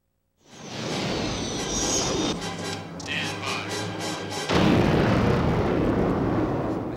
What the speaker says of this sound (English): sound of explosions has always been a great passion for me